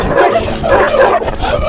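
A pack of dogs barks and yips in Morocco, a dense, continuous, loud jumble of overlapping barks with no pauses.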